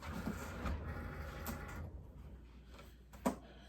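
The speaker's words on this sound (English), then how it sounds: "Put it in my printer, my printer cutter." A printer cutter loading vinyl for a t-shirt screen-print design whirs and hums quietly, with soft mechanical ticks and a sharper click near the end.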